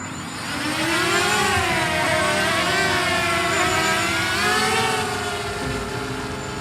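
A camera drone flying in the woods whines steadily with a high, shifting propeller buzz that rises and falls slightly in pitch, close and loud throughout with no talking.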